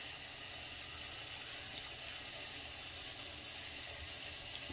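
A bathroom tap runs steadily while someone washes their face, giving an unbroken hiss of flowing water close by with no talking.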